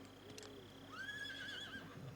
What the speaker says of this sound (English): Strange place to find a horse.